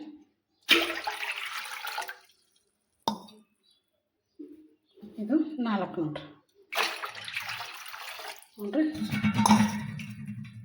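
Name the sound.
water being poured into a pot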